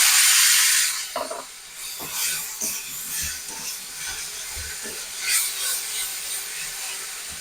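A paste of ginger, green chili, tomato and garlic hits hot oil in a pan for a bitter gourd curry, starting with a loud hiss that fades into softer sizzling broken by scattered clinks and scrapes.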